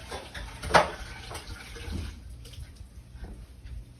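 Tap water runs into a pan set to soak after cooking chicken, a soft continuous rushing splash with one brief louder knock near the start, heard close with no talking.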